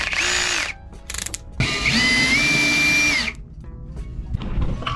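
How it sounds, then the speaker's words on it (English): A power drill whines loudly in two long bursts drilling holes into a boat deck, revving up and down, with mechanical rattling in between; nearby and continuous. "start the drilling process"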